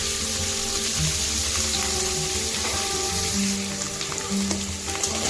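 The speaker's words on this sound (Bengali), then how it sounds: "সাদা তেল দিয়ে প্রথমে আমরা পনিরগুলো ভেজে নেব। পনিরগুলো হালকা করে ভাজবো," Paneer pieces frying in white cooking oil give a steady, close crackling sizzle that runs throughout, with faint clinks of stirring and no talk.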